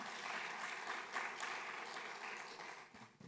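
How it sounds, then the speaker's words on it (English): Audience at a climate investment summit session applauding, a short steady burst of clapping in a hall that tapers off after about three seconds. "So we finally give them a round of applause for all of them."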